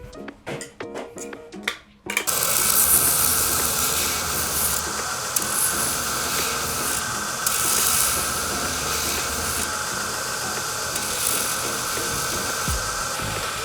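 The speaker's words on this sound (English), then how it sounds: "So we're gonna grind the end so we can etch it and see what we got." An abrasive grinder works the end of a mosaic Damascus steel billet, a loud, steady, bright hissing grind that runs continuously after a few short clanks and knocks at the start.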